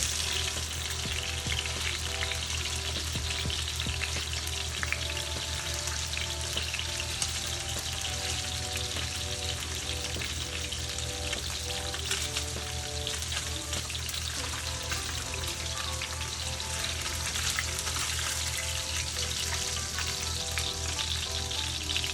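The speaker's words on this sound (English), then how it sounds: "after we cook our vegetables, the spinach and stuff. It needs to be quick." Vegetables and spinach cook in a pan with a loud, continuous sizzle and crackle, close up and steady throughout, with faint occasional scraping and no voices.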